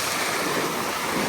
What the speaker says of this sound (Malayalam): വെള്ളം ഇങ്ങനെ അടിച്ച് കയറുവാണ്